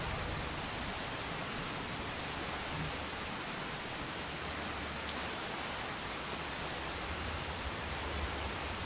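Heavy rain pours down in Fallout London, a continuous broadband hiss of drops striking surfaces, even and unbroken from start to finish, fairly soft in level with a faint low rumble and no speech.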